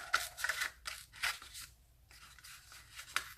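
Scissors cut around a pinched plastic cup in short, quiet crunching strokes, several rasping cuts spaced unevenly and heard close up.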